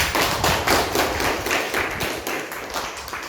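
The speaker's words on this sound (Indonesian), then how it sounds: "Aplaus untuk kelompok 1" Students and a teacher in a classroom clap for a group, steady rapid applause from a small crowd filling the room for about three seconds.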